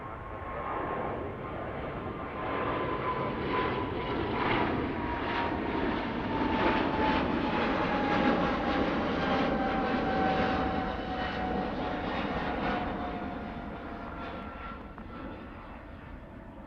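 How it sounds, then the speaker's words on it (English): An Emirates Boeing 777 departs Heathrow, its jet engines a loud sustained roar that builds, holds, then slowly fades as the plane climbs away, with a gliding whine over the rumble. "Beautiful Emirates triple departure there"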